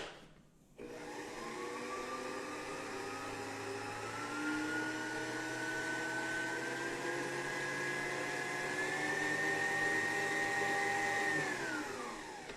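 Stand mixer motor whirring steadily at low speed while beating frosting with powdered milk, a continuous close hum with a slight rise in pitch midway before winding down at the end.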